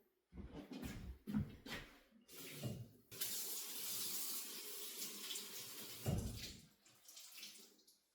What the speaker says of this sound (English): I might put a little more water in here.